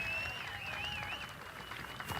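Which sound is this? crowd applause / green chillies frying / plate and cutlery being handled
crowd applause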